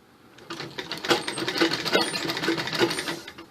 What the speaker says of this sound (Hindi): कंधे की सिलाई पीछे बैक साइड की तरफ, फ्रंट में नहीं करनी।